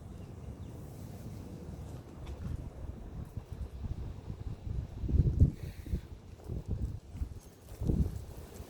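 Gusty wind rumbling against the microphone, low and uneven, with a few louder buffets toward the end.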